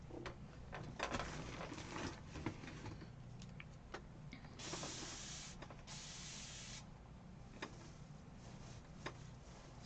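A spray bottle of cleaner mists a paint-covered tray in two distinct long hissing bursts, with scattered clicks and handling noises around them and no talking.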